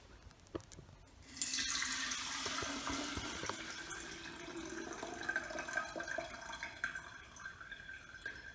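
Water kefir pours and trickles through cheesecloth in a continuous soft liquid stream, faint and close.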